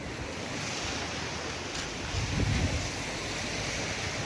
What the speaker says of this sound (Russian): Мы пришли на море.